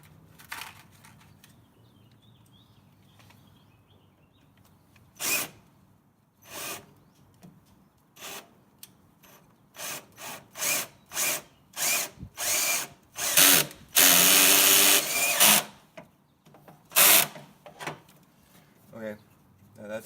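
A power drill drives screws into a Jeep TJ tailgate in a string of short whirring bursts, with a longer, louder run near the middle. Close and fairly loud, separated by quiet gaps and a few spoken remarks.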